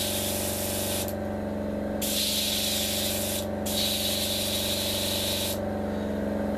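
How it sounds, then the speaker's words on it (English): An airbrush spray gun fed by a steadily humming compressor gives sharp hissing bursts, about three spray pulses switching on and off while the compressor drones underneath. "Let me just check and make sure my gun's spraying."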